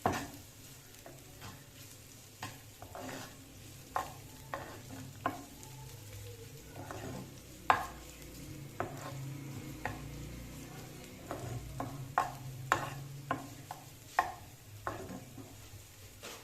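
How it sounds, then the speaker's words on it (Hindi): Cooked chickpeas frying in a pan with a low steady sizzle, broken by repeated clinks and scrapes of a spoon stirring, some louder than others, with no talking. "थोड़ा सा इसको हम फ्राई करते हैं।"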